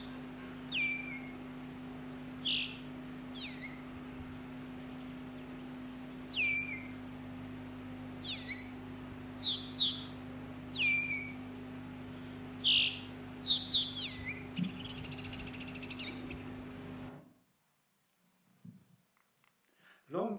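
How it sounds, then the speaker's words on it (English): Linnets call in short twittering bursts against a low steady hum on a heath common, the calls scattered irregularly before everything drops to near silence. "Linnets can be heard on the common."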